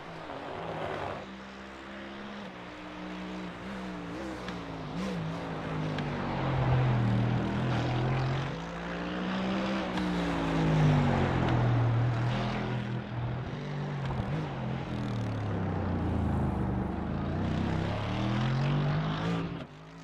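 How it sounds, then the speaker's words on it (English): A BMW M4 GT3 race car drives around the Long Beach circuit, its engine a continuous droning note whose pitch rises and falls with each gear and throttle change. "There's Michael McCoy riding in the brand new out today GT3. BMW, it's the M4."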